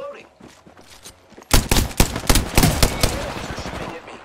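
Rapid bursts of automatic gunfire in the video game Apex Legends, quieter shots at first then a loud close volley of repeated cracks, with a voice talking underneath.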